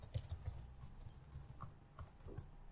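Keys clatter on a computer keyboard as a database query is typed, a steady run of light, close clicks with short pauses and no voices.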